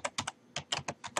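A password is typed on a computer keyboard: a quick run of distinct, close, crisp key clicks in uneven bursts against a quiet background.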